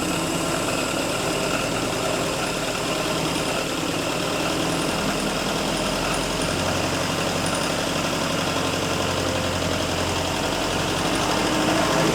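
A Willys CJ2A jeep engine runs at a steady idle, close and loud, with a continuous low rumble and rhythmic chugging throughout and no voices.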